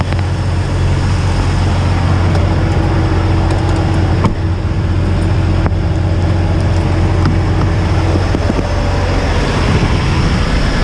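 A Western Star 4900 SF truck hauling a fuel tank trailer runs with a loud, steady low engine drone, constant throughout, with faint clicks and rattles over the hum and no voices.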